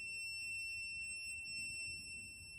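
An M8000 detector's alarm set to maximum sensitivity gives a steady, quiet high-pitched electronic tone that holds continuously over faint background noise.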